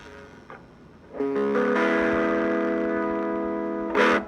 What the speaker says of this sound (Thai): ทดสอบเสียงคลีน แอม จิ๋วมินิ คาสุกิ รุ่นมินิครับ กับมาแชล MS2 ครับ เสียงคลีน